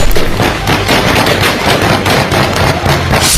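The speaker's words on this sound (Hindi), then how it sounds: "एयरपोर्ट के बाहर से लेकर जलालाबाद तक तालिबानियों की बंदूकें गोलियां उगल रही हैं।" Taliban guns firing in Afghanistan, between the area outside Kabul airport and Jalalabad, make a loud, dense, continuous crackle of rapid shots with no voices.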